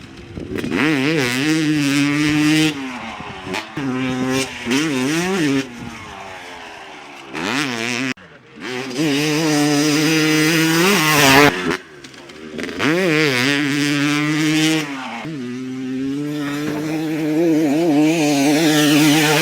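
A 250cc two-stroke motorcycle fitted with a smaller front sprocket laps a track, its loud, buzzing engine rising and falling through repeated revving accelerations and gear changes, with short lulls between passes.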